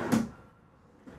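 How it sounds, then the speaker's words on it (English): A kitchen drawer slides open in the living quarters of a Bloomer four-horse trailer, one brief close soft thud and slide followed by a faint second knock. "Trying to open up all your cabinets so you guys can see what you cannot see in our photos online below our sink"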